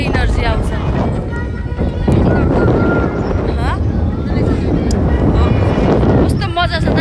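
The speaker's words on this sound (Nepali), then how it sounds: "यस्तो हावा चलिरहेछ" Strong wind rushes and buffets steadily and loudly during a boat ride, a continuous roar filling the whole stretch.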